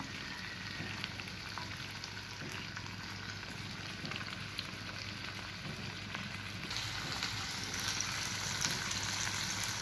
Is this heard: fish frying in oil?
yes